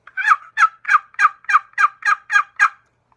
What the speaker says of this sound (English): And another one is a box call.